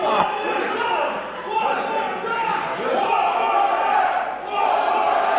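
A wrestling crowd cheering and roaring in a large arena, a loud continuous swell of voices that rises in waves, with a commentator talking over it.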